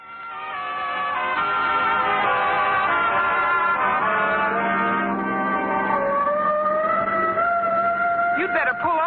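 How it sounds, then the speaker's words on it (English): A steady, wailing siren tone holds near the listener for several seconds, sliding in pitch toward the end over a continuous low rumble. "Oh, the siren. No, that's on our car."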